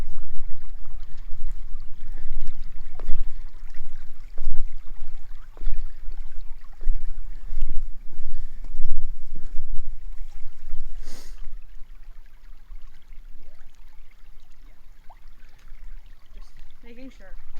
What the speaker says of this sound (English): Second Creek crossing here.